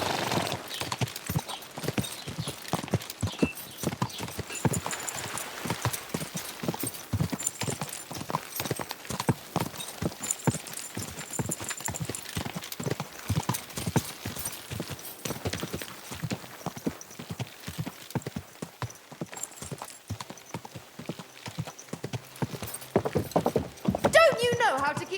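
Horse hooves clip-clop rapidly and continuously on a hard surface in the video game Kingdom Come: Deliverance II, with occasional voices and a faint whinny mixed into the busy game soundscape.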